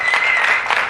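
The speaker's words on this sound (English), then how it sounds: "Let's have a round of applause for Robin" A comedy gig audience gives a brief burst of applause, a loud, dense, unbroken wash of clapping lasting under a second.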